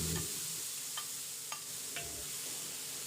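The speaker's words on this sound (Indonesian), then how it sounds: "Kita tumis bumbu untuk gulai nangka." Spice paste for jackfruit gulai curry sizzles steadily in a pan while a utensil stirs it, with soft scraping clicks about every half second over the constant quiet frying hiss.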